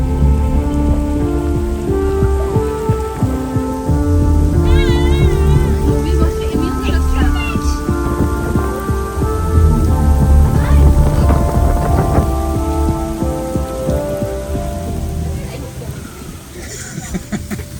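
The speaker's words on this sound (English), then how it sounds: "That was such a storm." A heavy rainstorm pours steadily over the sea off Thailand, with wind buffeting the microphone and a dense roar of drops under a faint tonal background.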